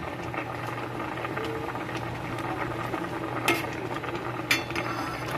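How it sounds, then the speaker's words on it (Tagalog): A pot of paksiw fish stew bubbles and simmers steadily, a continuous low burbling with a couple of faint clinks, close by and with no talking. "Ito naman po ang aking paksiyo. Kumukulo na rin."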